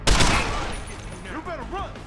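A loud burst of rapid gunfire from the video game Deus Ex: Human Revolution opens, followed by lingering noisy echoes with warbling tones and electronic effects layered over it.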